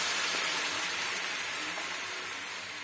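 Hot boiled milk, about two cups, poured into a pan of frying carrot, giving a steady bright sizzle and hiss that fades gradually, close and alone without talk.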